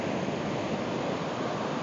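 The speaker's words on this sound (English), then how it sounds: "Here comes a nice size wave." Ocean surf at Laguna Beach roars in a continuous wash of waves breaking nearby, loud and steady throughout.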